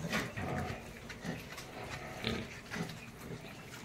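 Pigs on a farm grunt and snort in rough, repeated bursts, fairly close and continuous, with a busy pen-like background and no talking.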